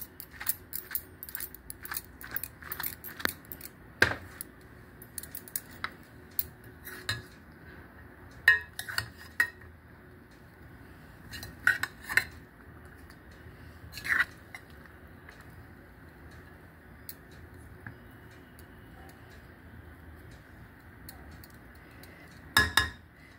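A pot of chicken biryani is shaken, giving scattered metallic clinks and rattles of the cookware in short irregular bursts over a quiet background.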